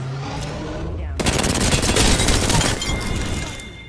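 Sustained rapid automatic gunfire in Apex Legends, a loud, close burst lasting about a second and a half, then fading into trailing shots and game effects.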